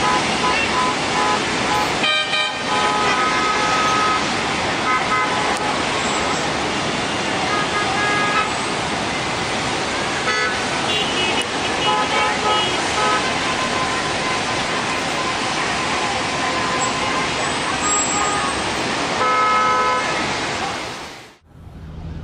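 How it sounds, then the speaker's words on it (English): Dense, steady roar of gridlocked traffic at Beijing intersections after a signal failure, with car horns honking repeatedly throughout, loud and continuous until it cuts off at the end. "A single traffic light failure in Beijing led to massive traffic congestion, bringing key intersections to a standstill."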